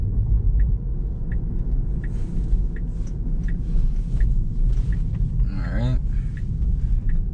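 Steady low road rumble inside an autonomous car driving on local streets near Stanford Hospital, a continuous interior drone with faint ticking and a brief chirp near the end.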